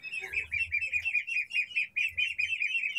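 Muscovy ducklings of differing ages, kept mixed together, cheep in a steady run of high, repeated peeps that carry on without a break, close by and fairly loud, with a low rumble underneath.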